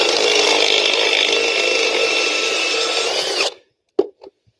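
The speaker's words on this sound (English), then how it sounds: "now we're going to use a step bit to enlarge the hole so that we can pull all the bolts out" A step drill bit enlarges a hole in a continuous hinge so its bolts can be pulled out. A steady, harsh grinding whine runs close and loud for about three and a half seconds, then stops, followed by a couple of brief knocks.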